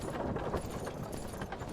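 Horse hooves pound steadily in the video game Myth of Empires as the horse travels at speed, a continuous, rhythmic clatter under dense game noise.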